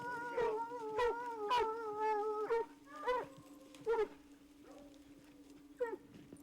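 Hunting dogs tracking a mountain lion in Idaho hills, giving repeated howling yips and bays at moderate distance, several overlapping calls in bursts with gaps, over a steady low hum.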